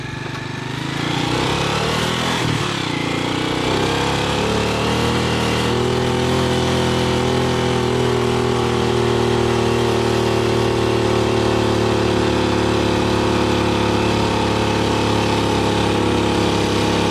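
A small motorcycle engine runs steadily and close by, a continuous buzzing drone with a slight rise in pitch early on, then holding an even idle for the rest of the time.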